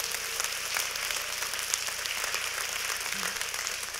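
An audience at a youth talk event breaks into steady applause, a dense wash of many hands clapping that holds evenly throughout, with no talking.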